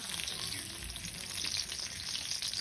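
Bay leaves sizzling steadily in hot oil, a dense continuous frying hiss with faint stirring, fairly loud and close with no voices.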